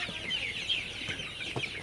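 Several 44-day-old Sonali hybrid chickens cluck softly and continuously, their overlapping calls fairly quiet with no one speaking.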